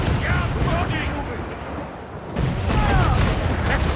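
Cannon fire from a sailing warship in Assassin's Creed IV: Black Flag, heavy rumbling booms in close succession with a brief lull midway, set against game ambience and voices.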